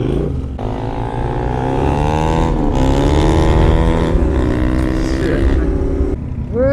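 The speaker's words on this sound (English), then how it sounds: "Put it in gear, and off you go. Clutch out, bit of gas, not too much." Adventure motorcycle, a Yamaha Tenere 700 or KTM 390 Adventure, pulling away close up, its engine note climbing steadily through gentle acceleration, loud with a brief voice at the start.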